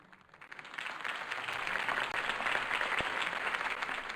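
Crowd applause in the Batman: The Telltale Series video game, following a campaign speech for Harvey Dent; steady broad clapping swells in over the first second and holds loud and continuous throughout.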